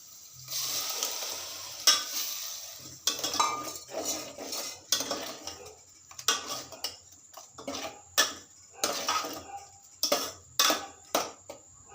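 Crushed tomatoes for a sour tomato chutney sizzle in a hot pan, with a burst of frying at first and then intermittent clinks and scrapes of a spoon stirring.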